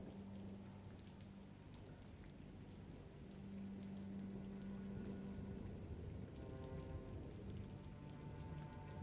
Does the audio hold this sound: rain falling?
yes